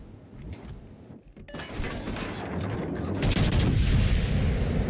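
Warship main-battery shells firing in World of Warships Legends, a rapid cluster of heavy booming blasts and crashes building in loudness over a few seconds, layered over a constant low rumble, no voices.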